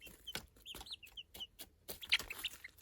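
Young chickens cluck and peep in short, scattered bursts, a few sharp chirps among soft clucks, quiet and close with no talking.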